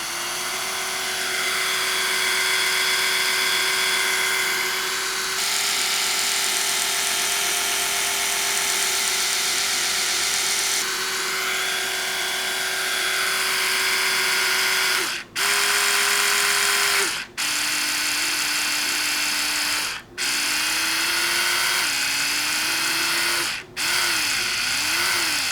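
A steady Oral-B Genius X electric toothbrush hum, loud and close, with a high whine that shifts pitch slightly and cuts out briefly several times toward the end.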